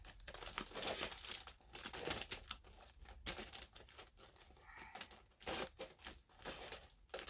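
Skincare box packaging crinkles and rustles close up as it is opened, with irregular bursts of crumpling and tearing paper or plastic throughout; quiet, no speech.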